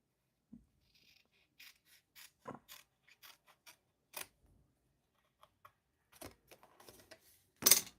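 Paper is cut on a paper trimmer for a handmade shutter card, with scattered sharp clicks and short slicing snaps spread across quiet pauses, ending in a louder cutting burst.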